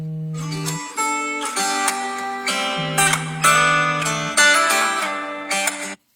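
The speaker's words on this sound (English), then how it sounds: "That's my alarm telling me it's time for me to eat." A phone alarm going off as a meal reminder, a steady electronic melody of stacked tones repeating in short phrases, loud and close for about six seconds with no talk, then stopping abruptly.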